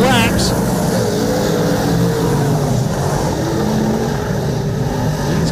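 A V8 dirt modified race car roars through a heat race at a dirt track, its engine note steady and loud with revving under commentary throughout.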